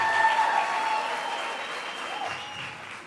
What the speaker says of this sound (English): please give them a big round of applause to thank them for the sacrifices they've put through